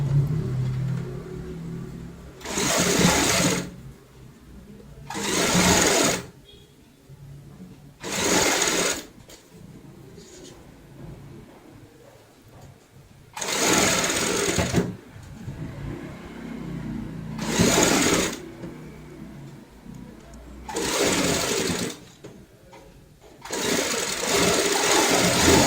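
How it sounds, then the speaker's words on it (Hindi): An electric sewing machine stitches a small baby girl's cap in repeated bursts of close, loud motor whirring, each a few seconds long and separated by quiet gaps. "अब हम यहाँ पे ऊपर से सिलाई लगाएंगे।"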